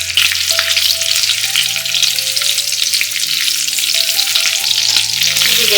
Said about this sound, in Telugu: వీటిని మనం బాగా వేయించుకోవాలి.